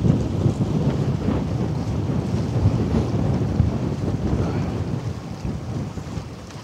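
Strong wind gusting across a harbour at night where cruise ships and container vessels berth, a loud continuous broadband roar buffeting the microphone for the whole stretch with no talking.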